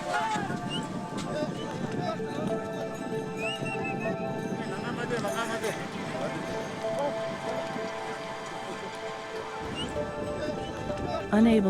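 Horses struggling through deep snow on a Himalayan mountain pass, with hooves clopping, repeated neighs and whinnies close by, and voices underneath throughout.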